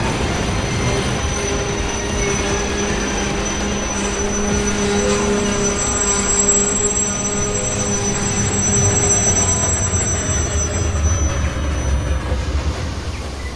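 A train brakes with loud, continuous squealing wheels that hold steady high tones over a heavy rolling rumble. It goes on for more than thirteen seconds with no voices.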